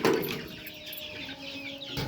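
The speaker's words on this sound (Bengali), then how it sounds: "এ হচ্ছে ছাদের উপরে আমার মিশরীয় ফার্মি মুরগি পালন।" Egyptian Fayoumi chickens on a rooftop farm give soft, scattered clucks and low murmurs, with a brief louder burst near the start, under a steady background hiss.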